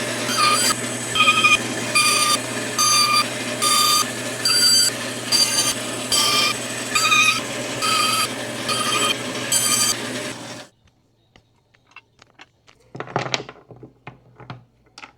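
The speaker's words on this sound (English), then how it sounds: "Now we can just cut them out with the bandsaw," A bandsaw, jigsaw or scroll saw cuts wooden pieces for a rustic project in loud, regular bursts of whining buzz. The bursts repeat about every second for ten seconds, then stop, leaving near silence and a brief clatter.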